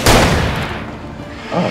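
A single gunshot from the Alan Wake video game, a loud sharp bang followed by a long echoing decay, with a weaker thump near the end.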